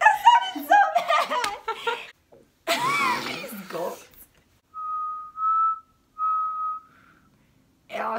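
People whistle a short tune in two clear, sustained high notes after a stretch of talking and laughter, with brief chatter returning at the end.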